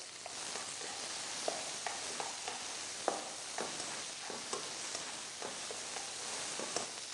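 Chopped onions sizzle steadily in hot oil with bay leaf, ginger and garlic, a constant bright hiss broken by frequent spoon scrapes and stirring clicks.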